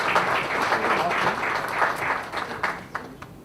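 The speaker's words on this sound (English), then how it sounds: "Let's have a huge round of applause once again for Dr. Tharoor." Audience applause at an education launch event in India, a steady wash of many hands clapping for a guest speaker, fairly loud and sustained, tapering slightly toward the end.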